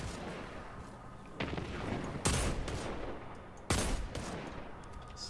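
Gunfire in the shooter video game Destiny 2: rattling bursts of shots run under a continuous rumble, with two sharp, louder blasts standing out, and no speech over them.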